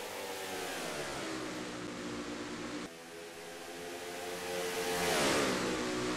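Stock car engines roar steadily through a racing video game race at Dover, a dense continuous drone with a brief dip near the middle before the pitch swells and rises again as the cars come off the fourth corner.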